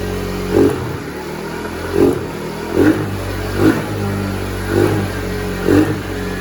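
A Taotao 50cc engine idles with a rough, steady note and revs in six short, evenly spaced bursts, close and loud, with no talking.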